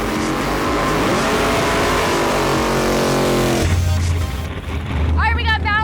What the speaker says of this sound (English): She just did her burnout.